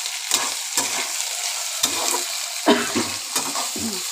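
Chopped garlic and soya chunks fry in a pan under a constant sizzle, broken by repeated scraping stirs that come in short, irregular bursts close by.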